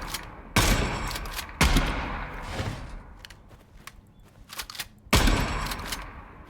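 Shotgun shots with heavy recoil in Gunsmith Simulator, three loud booming blasts spaced a second or more apart, each trailing into a decaying rumble, with lighter mechanical clicks and clatter between them.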